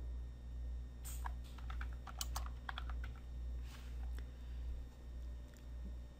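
Someone types a name on a computer keyboard: a short burst of quick, crisp key taps in irregular clusters over a low steady hum, fairly quiet and without talk.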